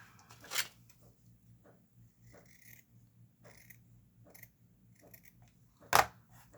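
Scissors trimming craft material for a small pocket-size travel altar, a few quiet snips and rustles close by, with two sharper louder cuts standing out against a low background hum.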